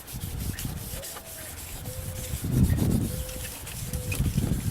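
A plastic car headlight lens being rubbed and sanded by hand, giving a steady close abrasive scrubbing noise with rhythmic swells and a faint squeak now and then.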